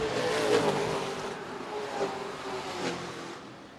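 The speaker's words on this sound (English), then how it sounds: "Now he's under pressure from the 75 car of Mike Doss." Late model race cars compete in a main event at Redwood Acres Raceway, their engines droning and swelling as the cars pass in close succession, moderately loud and heard without talk over them.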